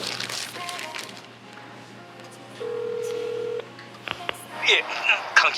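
A telephone keypad sends short dialing tones, then a long steady tone follows, in a scene from a Korean drama. The beeps are clear against quiet room sound, and voices are heard near the end.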